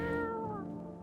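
A cat meows once in a video game, a single soft, drawn-out cry that slides downward and fades away, heard alone at a low level.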